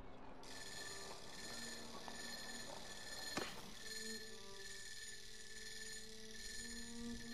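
A countdown timer alert goes off in the video game Mount & Blade II: Bannerlord, a steady, bright ringing tone that sounds on continuously throughout with no voices.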